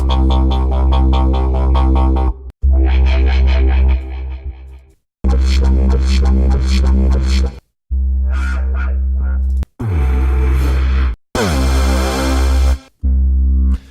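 Loud synthesizer passages from UVI Falcon's Subculture expansion start and stop in blocks, each pulsing rhythmically in time with a steady beat at about 145 BPM, with short silences between them.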